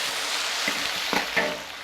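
Spices hit hot caramelised sugar in a wok, giving a steady close sizzle and frying hiss with a few sharp crackles and stirring knocks near the end.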